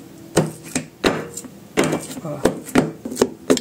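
Ripe banana pounded in a mortar for Filipino nilupak with coconut and sugar, a run of heavy, dull, irregular thuds close up, with a voice talking in between.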